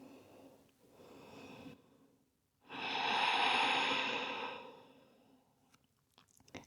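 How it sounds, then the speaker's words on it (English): Deep breathing during a yoga session for a stiff back, a soft inhale followed by a long, fuller exhale rising and fading close to the mic in a quiet room. "Let's take one last nice deep breath here."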